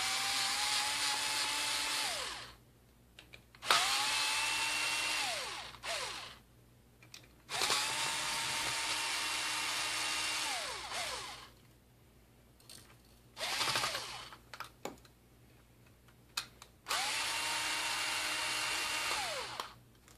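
An electric screwdriver whirs in repeated bursts of a few seconds each, undoing screws on a Yamaha R6 motorcycle headlight projector, pitch winding down at the end of each run with short clicks between, no talk.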